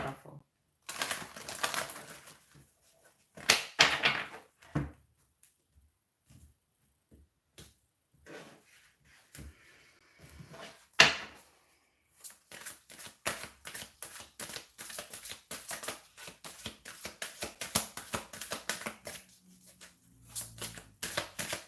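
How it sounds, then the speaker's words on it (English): Tarot cards are shuffled up close, with quiet bursts of riffling and light tapping that come in short clusters and then run into a faster stream of soft card slaps near the end. "One more shuffle."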